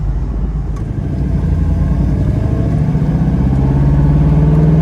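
A 1965 Ford Mustang restomod with a four-speed Hurst shifter drives along, its engine a loud close rumble that rises in pitch as it accelerates steadily.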